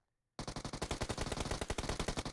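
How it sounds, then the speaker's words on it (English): Rapid automatic gunfire from PUBG Mobile, a sustained burst of evenly spaced shots starting abruptly after a moment of silence and continuing steadily to the end. "Oh, he hears those other gunshots."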